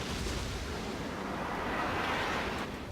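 Naval gunfire in World of Warships, a splash-damage hit from a Kongo battleship: a dense, continuous roar of explosive rumble and broadband blast noise that stays loud and steady throughout, with no speech.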